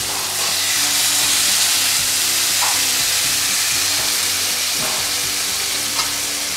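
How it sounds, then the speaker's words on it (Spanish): Salmon fillets sizzle loudly and steadily on a lightly oiled griddle, a dense, even hiss up close with a few small pops and no voices. "Inmediatamente agregamos los lomitos de salmón."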